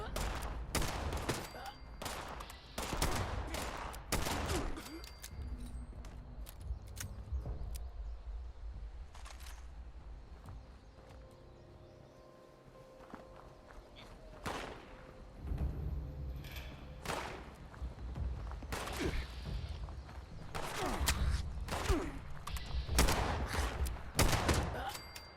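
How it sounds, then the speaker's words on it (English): Enemy gunfire in Fallout 76 during an attack on a workshop at a misty farm, repeated loud close gunshots and bursts of rapid fire with thuds, heavy at the start and end, quieter stretch midway. "Some of these enemies have guns, and they shoot at me through the early morning mist."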